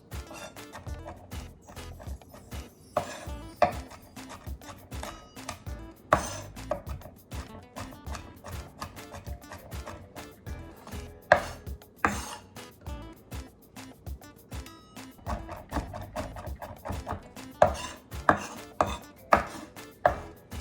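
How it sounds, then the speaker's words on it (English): A knife finely mincing garlic on a cutting board for pantry salsa: steady, rapid tapping chops close up, with several bursts of quicker, denser strokes as the blade passes over the pile repeatedly, with no talking. "And then you just mince these up really finely."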